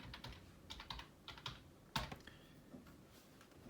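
Typing on a computer keyboard, soft, close clicks in short irregular clusters, with one sharper key press midway.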